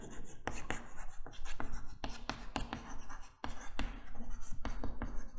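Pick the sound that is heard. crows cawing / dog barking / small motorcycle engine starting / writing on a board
writing on a board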